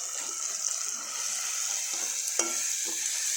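Ginger garlic paste sautéing in a pan for chola poori channa masala gives a steady, close, bright sizzle with soft stirring scrapes and a sharper clack near the middle, and no voices.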